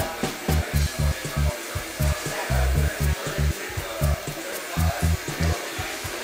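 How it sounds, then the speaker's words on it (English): A MakerBot 3D printer runs inside the brand's Manhattan store, its motors making quick rhythmic whirring pulses in an uneven stuttering pattern over a constant background hiss. "we're at MakerBot's store in Manhattan to see this printer in action"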